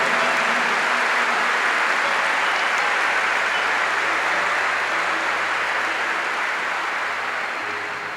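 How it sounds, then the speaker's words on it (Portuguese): An audience at a Catholic music and worship gathering applauds steadily for about eight seconds, a dense, even wash of clapping that stays loud and thins slightly toward the end. "eu quero que vocês aplaudam essas pessoas"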